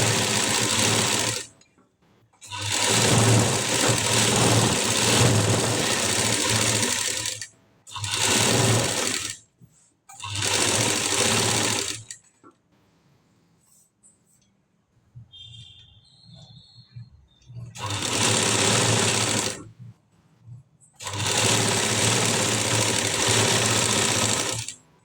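An electric sewing machine stitches a collar blouse in loud, steady whirring runs of several seconds each, separated by short pauses and one longer quiet stretch with light handling noises.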